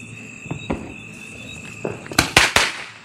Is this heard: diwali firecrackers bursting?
yes